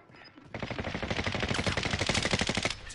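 Video game gunfire bursts out as rapid, sustained automatic fire lasting a couple of seconds after a short quiet lead-in, loud and close.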